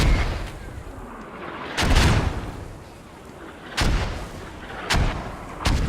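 Mortar rounds firing in a Squad-style military shooter, four heavy booming blasts at irregular intervals, each with a sharp broadband crack and a low rumbling tail over a steady background hum.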